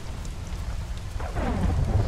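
Thunder from a lightning strike during a rainstorm in The Isle dinosaur survival game, a deep rumble that swells and grows louder over steady rain, no voices.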